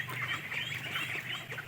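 A flock of two-month-old Khaki Campbell ducklings chatters and quacks steadily, close by, with a dense, overlapping murmur of calls that never pauses.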